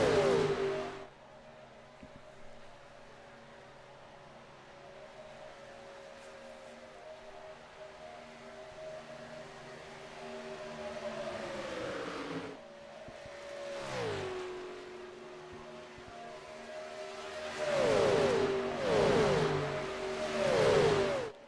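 Race cars in the iRacing NASCAR FedEx Cup Series Daytona 500 drone steadily at a distance, then a pack roars close and sweeps past with a falling pitch. A second group follows, louder and layered.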